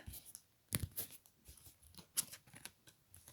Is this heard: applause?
no